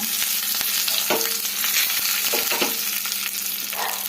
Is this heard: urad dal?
yes